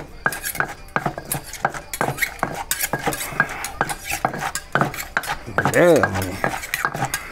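A metal utensil scrapes and clinks rapidly against a pan while cucumber is stir-fried at home, close and loud in a busy rhythm, with a brief spoken word near the end.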